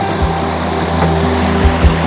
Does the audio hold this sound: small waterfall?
yes